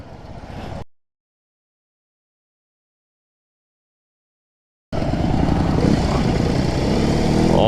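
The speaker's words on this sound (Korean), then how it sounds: "배기음이 확실히 다르네요" Loud, rough exhaust of an R18 motorcycle rumbling up close, a short burst, then a silent gap before a sustained, steady roar returns.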